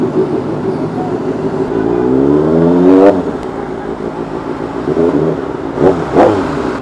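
A 2024 Kawasaki ZX6R sport motorcycle fitted with aftermarket headers and an ECU remap revs up hard, its pitch sweeping upward in loud, close bursts, then dropping back before a few sharper blips near the end.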